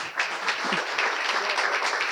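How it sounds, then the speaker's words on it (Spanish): Small audience at a business leaders' marketing event clapping for a speaker invited onstage, a brief patter of many hands that is even and moderately loud, with a faint voice briefly underneath. "Un aplausito para Paca."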